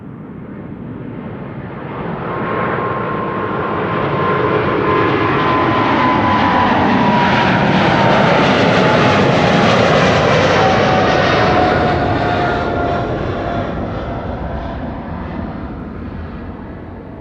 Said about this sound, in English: Here's KLM flight 735, 777-300 to Willemstad, Curaçao.